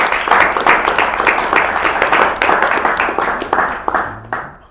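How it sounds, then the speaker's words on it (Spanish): An audience bursts into lively applause for David, a dense patter of many hands clapping at once, steady and close, that thins out toward the end. "un aplauso a David y a la family"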